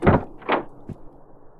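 A locked car door is tried: a few quick handle clunks and rattles, two stronger pulls followed by a fainter third, close by and with no talk.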